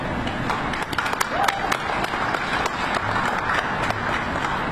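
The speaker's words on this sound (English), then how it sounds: "I think that deserves a round of applause." Audience applause follows a remark at a government press event, a steady wash of many hands clapping that runs evenly throughout, with no voice above it.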